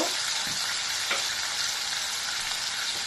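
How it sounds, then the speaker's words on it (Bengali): A spice paste of ground cumin and coriander with dried chili powder fries in a pan, producing a dense, continuous sizzle with a few light stirring knocks and no voices. "আর একটু ভালো করে মশলাটা আমি কষিয়ে নিচ্ছি"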